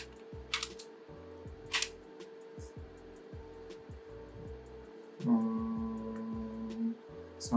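Keys tapped one at a time on a full-size SteelSeries Apex Pro mechanical keyboard, sparse sharp clicks spread evenly through a steady electrical hum, with a low tonal drone joining partway through.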